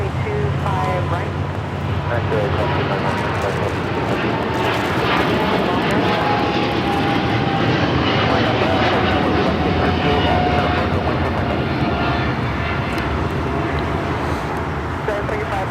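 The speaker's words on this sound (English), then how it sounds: "This is MSC Air Cargo Giant 355 taking off to Hong Kong on the 777 freighter." An MSC Air Cargo Boeing 777 freighter takes off from runway 25 right at LAX, its engines roaring loud and steady throughout with a rising whine, while a voice talks over it.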